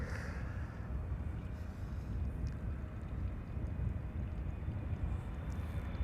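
A KLM Boeing 777-300 arriving at Amsterdam Schiphol Airport, a faint, steady broadband jet roar from a distance with wind noise and no talking.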